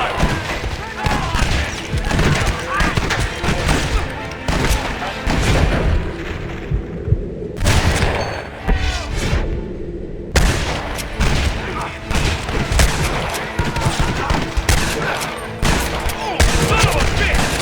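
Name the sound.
Gatling gun firing in video game Red Dead Redemption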